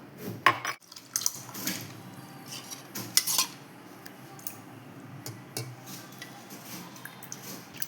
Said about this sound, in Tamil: 1 கிளாஸ் பால் இதில் ஊற்றிக்கலாம். இப்போ மிக்ஸ் பண்ணிக்கலாம்.